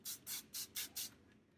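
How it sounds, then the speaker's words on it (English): Dettol antibacterial surface cleaner is sprayed from a trigger bottle in five quick, even bursts, close and fairly soft, then goes quiet. "So what I'm going to do is thoroughly spray down each surface."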